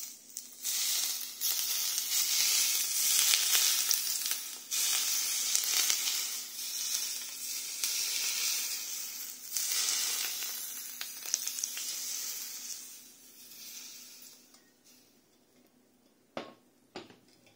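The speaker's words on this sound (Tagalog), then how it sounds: "Ibuhos na rin natin ang mainit na mantika sa isda." Hot oil poured over steamed fish with ginger and spring onion crackles into a loud, bright sizzle that holds for several seconds, then fades to quiet hissing with a couple of sharp clinks near the end.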